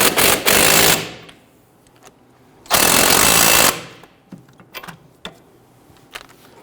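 Two loud bursts from a power impact tool tightening steering knuckle bolts on a 2011-2023 Dodge Charger, each roughly a second long, separated by quiet clinks and small taps of garage work.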